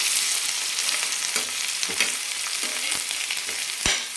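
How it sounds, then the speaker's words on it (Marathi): Thin potato slices fry in a pan, a bright continuous sizzle broken by several soft scraping stirs, close and fairly loud with no voices. "छान आपण एकदम भाजून घ्यायचे असे चांगले असे बटाटे आपले भाजले पाहिजेत लालसर असे"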